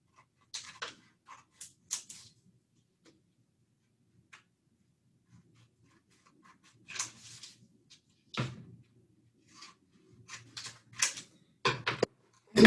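Scissors cutting out paper for an art collage, sparse crisp snips and rustles in short bursts separated by quiet gaps, close and clear with no talking.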